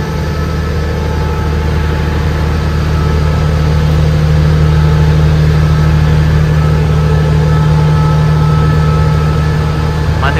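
A diesel electric generator drones steadily inside the power car of a Thai express train, a loud continuous low hum with a constant tonal whine, unchanging throughout with no voices over it.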